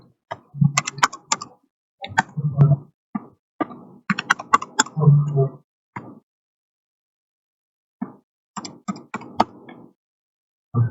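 Keys are tapped on a computer keyboard during data entry in Microsoft Excel, in close, crisp bursts of clicks separated by pauses, including a long silent gap before a final run of keystrokes.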